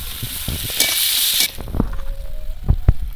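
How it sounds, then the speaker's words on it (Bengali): Onions with fresh bay leaves frying in oil for a chicken curry, giving a steady close sizzle with a loud hissing burst partway through, then lighter crackling and a few clinks of a utensil against the pan. "পেঁয়াজটা একটু ভাজা ভাজা করে নেব। আমি এখানে কাঁচা তেজপাতা দিয়েছি"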